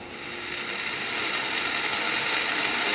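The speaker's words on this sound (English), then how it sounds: "you're going to hear a nice little sizzle if it's hot enough" Butter sizzling in a hot skillet while heating a roll, a steady, bright hiss that builds slightly over a few seconds and then holds, with no talking.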